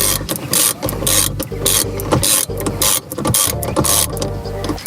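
A ratchet works 10mm bolts loose from the stereo mount of a 2020 Toyota Rav4, giving loud, close bursts of rapid clicking broken by short pauses between strokes.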